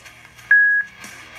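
A Photive Hydra waterproof Bluetooth speaker gives one clear, sustained electronic beep lasting about a third of a second when its volume control is pressed, set against a quiet background.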